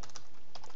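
Keystrokes on a computer keyboard during C++ Qt programming, a short burst of crisp clicks in two small clusters, close and fairly quiet, with no talking.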